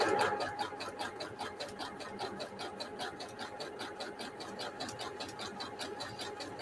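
A sewing machine runs a zigzag stitch through fabric scraps, a fast, steady mechanical chatter close by that holds an even pace throughout.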